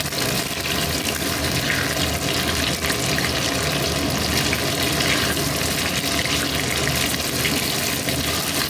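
Chicken 65 pieces deep frying in hot oil, a continuous dense loud sizzle and bubbling hiss that stays steady for the whole stretch with no talking.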